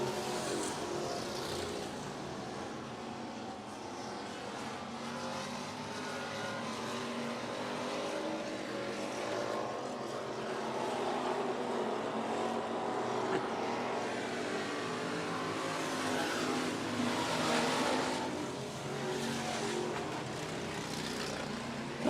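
Race cars roar down the back straightaway at 105 Speedway during a regular race program, a sustained, fairly distant engine drone that swells and fades as the pack passes, with no talk.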